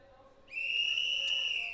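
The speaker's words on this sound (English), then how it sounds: "There is the magic whistle." A loud, shrill starting whistle blows at a STIHL Timbersports Nordic Pro Championship 2023 chopping competition, one steady piercing tone held for over a second after a short quiet lead-in.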